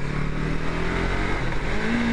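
A Yamaha MT-03 motorcycle engine revs steadily and loudly up close while the front wheel lifts in a wheelie, a continuous droning roar with no talking.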